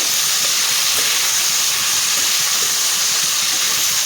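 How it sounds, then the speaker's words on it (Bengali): Green plantain slices fry in hot oil with turmeric, giving a loud, steady, close sizzling hiss that runs without a break and carries no voices. "একটু হালকা লাল লাল করে আমি ভেজে তুলে নিব"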